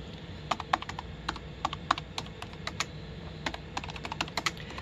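Typing on the keyboard of a Compaq LTE Lite laptop, irregular bursts of close, crisp key clicks with short pauses between, alone without talk.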